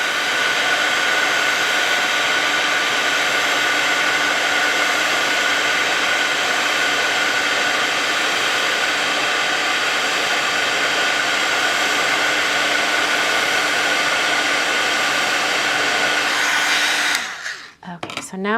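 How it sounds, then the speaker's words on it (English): A heat tool melting embossing powder roars loudly and steadily, a constant blower hiss that holds without a break before cutting off near the end with some brief handling noise. "I'm just watching for as soon as it melts, move my heat tool away."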